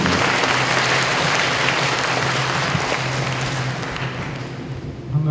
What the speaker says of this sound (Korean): 모두 박수로